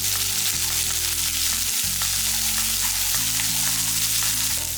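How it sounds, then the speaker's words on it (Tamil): Chopped ivy gourd sautés in a pan for chutney, a constant close sizzle and crackle of frying with a low hum underneath and no talking. "கட் பண்ணதை எடுத்து இதை நல்லா வதக்கிக்கலாம்."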